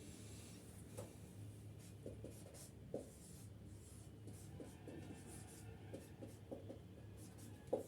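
Pen or marker scratching on a board during a school science lesson, a string of short strokes and taps at a steady pace, faint under a constant low electrical hum.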